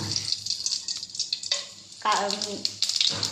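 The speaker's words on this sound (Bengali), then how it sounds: "গরম হয়ে গিয়েছে আমরা তেজপাতা দিয়ে দিলাম আর কিছু পরিমাণ গোটা মশলা দিয়ে দিলাম" Bay leaves and whole spices hit hot oil for a potato dum, giving a close crackling sizzle punctuated by clinks and stirring scrapes, with bursts of louder spitting midway.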